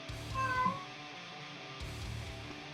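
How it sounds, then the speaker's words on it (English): A pet cat lets out a short, drawn-out meow, then a second quieter one, faint and close against a quiet room. "sorry about my cat"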